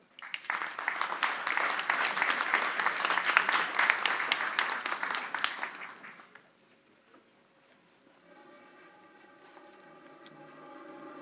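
Loud audience applause at a ribbon cutting for a company grand opening, sustained for about six seconds, then fading into quieter room noise and a faint tone.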